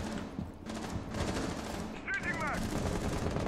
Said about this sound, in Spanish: ¿Me disparan desde ahí?